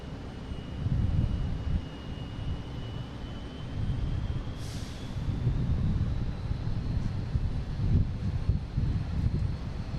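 Cape Air airplane passing at Boston Logan International Airport, a steady engine roar with wind noise holding fairly loud across the whole stretch, with no voices.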